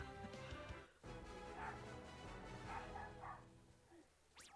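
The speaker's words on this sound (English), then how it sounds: "but yeah, that is my dog yapping." A small dog yaps and barks repeatedly indoors, sharp bursts spaced irregularly over a faint background, with no speech.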